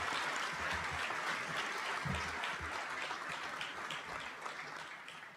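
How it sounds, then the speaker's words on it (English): A crowd applauds the graduating class of 2023 at a valedictorian ceremony, steady dense clapping at moderate distance that gradually tapers toward the end. "So let's give a big round of applause to the class of 2023."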